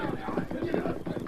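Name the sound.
horses setting off at a gallop, radio drama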